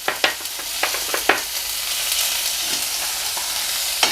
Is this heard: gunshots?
no